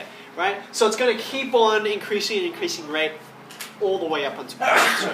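A single sharp sneeze bursts out near the end of a math lecture, coming right after a stretch of steady explanatory speech from the lecturer.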